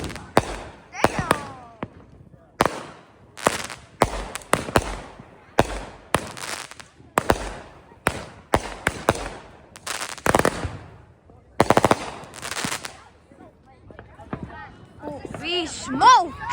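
Fourth of July fireworks burst nearby in a rapid uneven string of sharp cracks and bangs, some in quick crackling clusters. People exclaim and talk between the blasts, and a whistling shell rises near the end.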